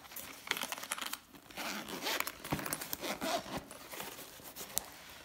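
The zipper on a BOYA wireless mic carrying case is drawn around the case in several quiet, close scratchy pulls and rasps, with no talk.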